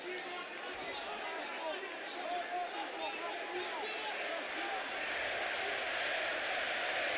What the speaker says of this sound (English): The crowd getting behind their home fighter here at the O2 Arena